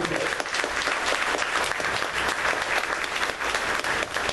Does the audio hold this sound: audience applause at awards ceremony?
yes